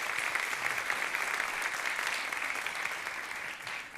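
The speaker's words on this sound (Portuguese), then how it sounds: "Você pode aplaudir ao Senhor?" A church congregation applauds with continuous, even clapping from many hands throughout. The sound is fairly distant and steady, with no break.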